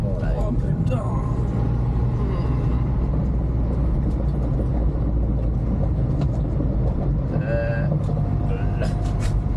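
Onboard a 1970 Renault R6, the engine drones steadily with low rumble and road noise while the car drives, and a voice talks over it at times.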